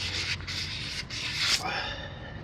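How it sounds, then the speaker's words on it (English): An axle sealing surface on a Toyota Land Cruiser HJ61 full-floating rear axle is polished by hand with abrasive paper, giving about four close, scratchy back-and-forth rubbing strokes followed by a quieter hiss. "polish all my sealing surfaces like this"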